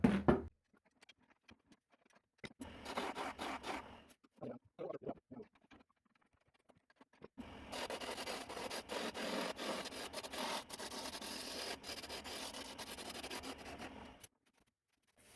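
A wooden mallet being sanded on a wood lathe makes a steady, close rasping hiss that starts and stops in short bursts, then runs continuously for several seconds before cutting off.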